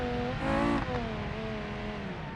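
An Italian mid-engine car in a racing video game revs hard, its high engine note climbing and wavering in a sustained, loud drone with no talking.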